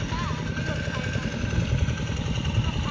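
An old farm tractor ploughing rice fields, its engine chugging in a steady low idle-like rumble throughout, with faint voices over it.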